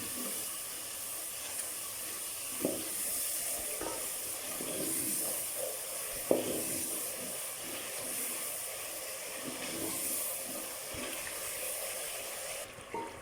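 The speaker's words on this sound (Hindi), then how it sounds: "थोड़ा थोड़ा पानी डाल के भूनूंगी मसाला" Masala with black pepper fries in a pan with a little water, giving a steady hiss and sizzle with occasional soft stirring knocks, moderately close and without talk.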